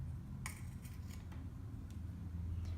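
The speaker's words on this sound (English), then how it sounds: "So I fold it in half and then cut up towards the center of the ribbon." Scissors snip through ribbon while a bow is being made, giving a few sharp, close cuts at irregular intervals over a steady low hum.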